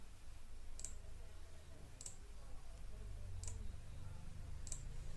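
Computer mouse clicks while downloading software on a PC, four crisp, isolated clicks spaced about a second apart over a steady low background hum, close to the microphone.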